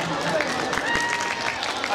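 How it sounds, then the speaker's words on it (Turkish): Guests at an engagement ceremony clap together in a steady, dense round of applause, mixed with crowd chatter and voices throughout. "Alkış oldu, alkış."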